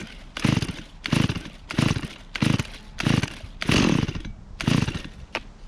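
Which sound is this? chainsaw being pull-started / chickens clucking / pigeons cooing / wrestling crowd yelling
chainsaw being pull-started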